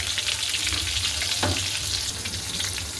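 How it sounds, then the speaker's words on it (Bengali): Constant close sizzling of pointed gourd frying in oil, with a faint stirring scrape midway, steady and loud throughout with no speech. "এই যে পটল ভাজা বসিয়ে দিলাম"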